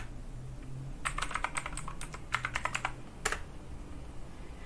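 Keystrokes on a computer keyboard as a password is entered during a Debian Linux install: a quick burst of crisp clicks, a short pause, more taps, then a single firmer press, close and moderately loud over faint room hum.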